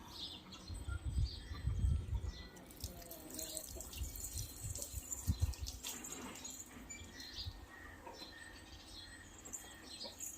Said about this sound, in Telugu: ఇప్పుడు చూడండి, నేను మళ్ళీ వాటర్ ఇలా పోస్తున్నాను